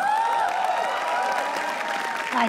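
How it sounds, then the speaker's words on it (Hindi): A roast-battle audience applauds the final act, a steady crowd clapping with an instrumental tone and faint voices running through it. "तालियां प्लीज"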